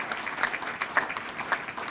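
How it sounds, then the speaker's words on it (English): A crowd applauds at an event in a historic Chicago auditorium, fairly faint, scattered hand claps with a few sharper nearby claps standing out. "how about a big round of applause for Rick Kogan"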